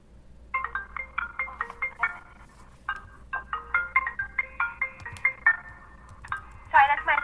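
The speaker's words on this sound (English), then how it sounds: "Sorry, that's my phone" A mobile phone ringtone chimes in a repeating melodic pattern through a room, bursts coming in quick regular groups with short pauses, moderately loud over a low steady hum.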